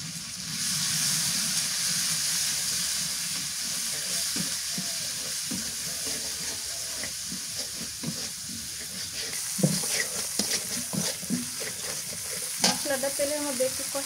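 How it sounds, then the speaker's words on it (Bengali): Garlic, onion and turmeric spice paste fries in hot oil with a steady sizzle and stirring scrapes, a few louder clatters near the end, and no talking. "মশলাটা তেলের মধ্যে একটু কষা নিলাম"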